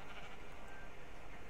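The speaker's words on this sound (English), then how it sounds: "So we found some sheep in the jungle area." Sheep bleating in the Minecraft video game, found in a jungle area, with a short bleat over a constant hiss of background noise and no one talking.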